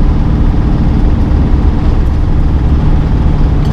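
An LBZ Duramax diesel pickup towing a dozer up a hill in fourth gear, with a steady, loud, low engine drone and road roar filling the cab continuously.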